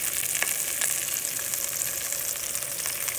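Garlic cloves with thyme and a dried bay leaf sizzle steadily in a hot pan of oil, a close, continuous crackling frying hiss with small pops throughout.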